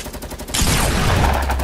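Gunfire in Fortnite, a loud sudden burst of shooting that breaks in after a quiet stretch and rolls on as sustained crackling fire with a booming low tail.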